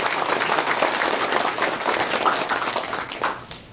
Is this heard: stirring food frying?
no